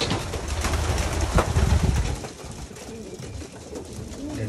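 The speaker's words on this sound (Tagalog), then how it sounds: "gaganda nila mga kalapatid" Pigeons coo close by in a busy loft, low soft calls overlapping with rustling and general bird noise, steady throughout.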